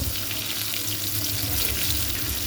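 Onion, chili, cardamom and cinnamon frying in oil for a chicken curry, giving a steady, dense sizzle with a low hum beneath, continuous and fairly close, with no voices.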